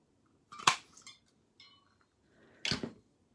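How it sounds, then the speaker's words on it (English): Scissors make two crisp snips, about two seconds apart, while trimming both ends of a piece for a handmade floral stamped card. Both cuts are close and fairly loud in an otherwise quiet room, with a faint rustle between them. "So let's just cut both ends."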